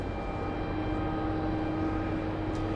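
Steady, continuous engine drone of a Boeing 747 taxiing across a runway at snowy JFK airport, heard from a distance as a constant low roar with a faint whine, no talking over it.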